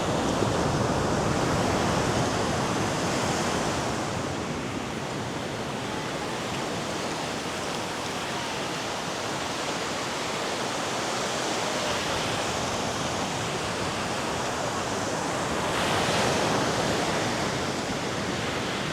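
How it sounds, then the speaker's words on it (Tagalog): Ocean waves roll in at Nai Harn beach in Phuket on a morning, a continuous broad wash of surf with gentle swells near the start and end, no voices. "Ang ganda ng alon dito."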